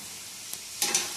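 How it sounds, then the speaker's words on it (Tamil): Ginger garlic paste sautéing in a pan for chicken gravy, a quiet steady sizzle with a few brief scraping stir strokes near the end, no talking. "இஞ்சி பூண்டு பேஸ்ட்டு போட்டு நல்லா வதங்கணும் ஃப்ரெண்ட்ஸ்"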